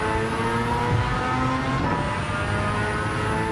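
A race car engine in Gran Turismo 7 pulls hard under steady throttle, a loud, continuous droning roar with no gaps and no voices over it.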